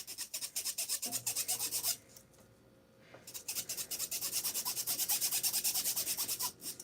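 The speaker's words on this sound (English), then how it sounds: "I just like to scrub the inside to make sure there's nothing in there" A straw washer brush scrubs the inside of a straw in rapid, rhythmic back-and-forth strokes, close and clear, pausing briefly midway before resuming at the same brisk pace.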